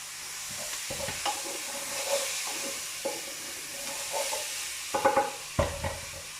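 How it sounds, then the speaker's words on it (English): Food sizzles softly in a frying pan, a gentle hiss punctuated by a few sharper pops and clinks of a utensil. "So you can hear them sizzling through, so that's a good sign."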